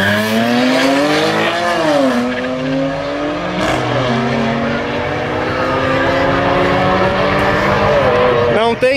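A Mercedes AMG and a BMW 335 roar in a drag race, engines climbing through gears with pitch sweeps and shifts, loud and close, under excited commentary in Portuguese.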